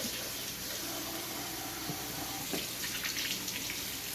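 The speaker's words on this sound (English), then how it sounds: "And I'm just rinsing the corn off." Fresh shucked corn is rinsed under a running kitchen tap, a steady close rush of water with shifting splashes as the cob moves through the stream, no voices.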